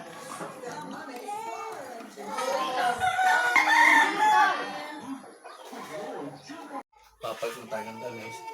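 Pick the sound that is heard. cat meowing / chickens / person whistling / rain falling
chickens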